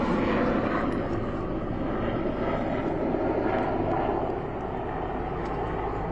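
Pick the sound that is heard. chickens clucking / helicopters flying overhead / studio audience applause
helicopters flying overhead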